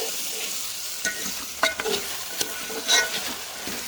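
Onions and tomatoes softening in a pan for a Gujarati-style soya chunk curry, a steady close sizzle broken by a few scraping stirs and sharp spatula clicks near the end.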